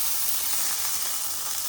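Fresh basil leaves hit a hot pan of noodles and sizzle with a steady, even hiss that holds close and fairly loud for under two seconds.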